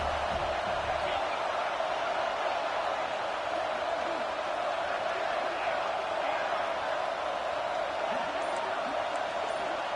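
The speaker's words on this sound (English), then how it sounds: "The Tide crowd rolling noise down onto Saban Field on 3rd down." Dense, steady roar of a video-game stadium crowd at a college football game on 3rd down, loud and continuous throughout without a break.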